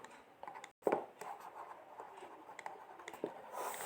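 A definition handwritten during a class 10 electricity lesson, a faint, close scratch of pen or pencil on paper in short uneven strokes with a brief pause near the start.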